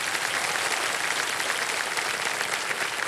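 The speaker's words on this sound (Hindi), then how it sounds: "तालियां बज जाए।" A studio audience on a TV quiz show claps steadily and densely, a loud continuous wash of applause with no talking over it.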